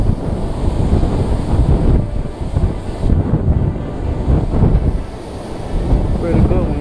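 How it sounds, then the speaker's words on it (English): Rough, gusting wind buffets the microphone outdoors while crappie fishing late in the day on the water, a steady loud roar with surges and waves or surf beneath it. "The wind rough today."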